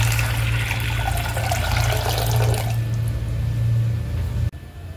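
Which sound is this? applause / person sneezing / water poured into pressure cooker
water poured into pressure cooker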